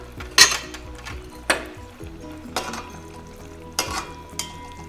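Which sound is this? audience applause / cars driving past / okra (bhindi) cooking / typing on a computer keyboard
okra (bhindi) cooking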